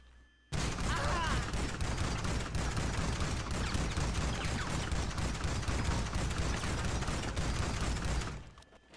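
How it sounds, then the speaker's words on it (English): Sustained rapid gunfire from GTA Online, a dense, loud burst of automatic shots running almost nine seconds without pause before cutting off, with no talk over it. "This is my new gun."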